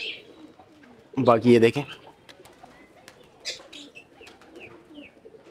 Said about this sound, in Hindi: ये कबूतर देखें नीचे आ गए, ये देखें कुछ कबूतर ऊपर बैठे हैं